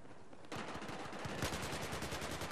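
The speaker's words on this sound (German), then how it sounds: "Einfach mal dahin ballern." Rapid automatic gunfire in Battlefield 4 on PlayStation 3 breaks out after a short lull and continues as a loud, dense, evenly paced stream of shots to the end.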